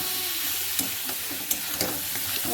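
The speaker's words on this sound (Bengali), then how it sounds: "মশলাটা কষানো হয়ে গেছে, এখন দিয়ে দিলাম সয়াবিনটা আর আলুটা" Soybean chunks and potatoes frying in a thick spice masala, a steady close sizzle broken by a few sharp spatula scrapes and clinks as the pan is stirred.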